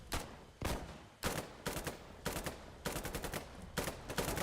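Rapid bursts of automatic gunfire in the Foxhole video game, several clustered volleys of sharp shots separated by brief gaps, loud and close.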